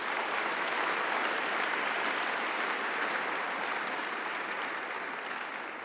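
An outdoor audience at a Founders Day event claps for four runners, producing a dense, sustained burst of applause that holds steady and fades slightly toward the end.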